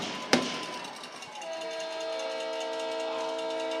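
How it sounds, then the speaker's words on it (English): A train whistle sounds at a high school football game after a touchdown, a sustained multi-tone blast holding steady after a sharp opening pop, heard at moderate distance in open air. "And the train whistle."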